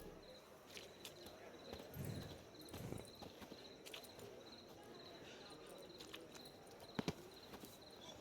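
Roach, a horse in The Witcher 3, trots with soft, steady hoof clip-clops under a constant cricket and insect chorus, with faint ambient game sounds and a couple of sharper clicks near the end.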